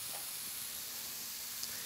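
Meat cooking on a T-fal Optigrill electric grill set toward medium gives a steady, close sizzling hiss that continues without a break and without any talking.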